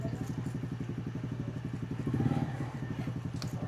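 A motorcycle engine idles close by with a steady low chugging pulse, rising briefly in the middle, in a hot rural setting in Jinalinan, Pandan, Antique.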